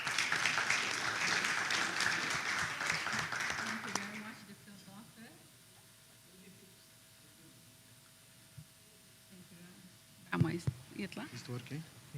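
An audience applauds a panel speaker in a hall, with about four seconds of loud clapping that cuts off into quiet room noise. Later there are shuffling and brief talk.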